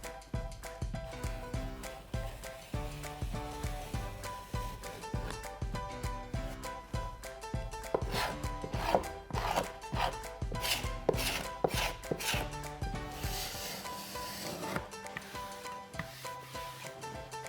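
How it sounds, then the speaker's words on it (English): A paint scraper drags over painted furniture, lifting paint from areas coated with petroleum jelly, in repeated close scraping strokes with a rough, rasping rhythm that continues throughout. "I will use a paint scraper to remove the paint from the areas where I have applied the petroleum jelly"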